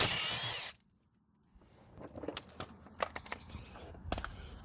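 Power tool removing a Torx bolt from a Trail Armor skid plate on a Polaris RZR RS1 in a garage: a loud whir that cuts off, then a string of sharp metallic clinks and taps from bolts and washers.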